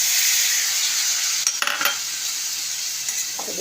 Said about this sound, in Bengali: এবার আমি কড়াইশুঁটি দিয়ে দেবো।